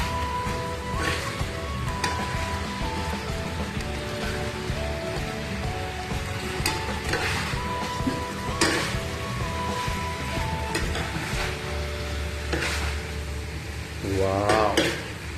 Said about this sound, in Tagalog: We will mix all the chicken, become coated with our sauce.